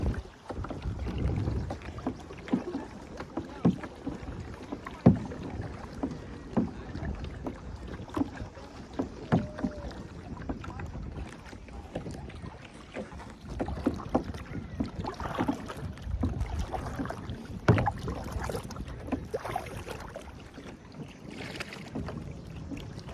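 A kayak paddled on the water at a rental spot in Black Hill Park, with steady soft paddle strokes and splashes under light wind noise and no talking.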